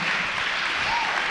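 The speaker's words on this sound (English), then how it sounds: "Give her a round of applause." Applause from a church audience fills the room at Victorious Life Church, a dense, steady clapping that runs loud from start to end with no gaps.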